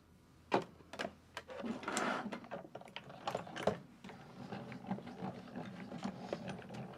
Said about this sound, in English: Make way for the die cutting machine.